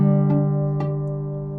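A strummed guitar chord, fretted too lightly, rings out with faint buzzing, two light string scrapes along the way, then the sustain slowly fades, alone without any talking.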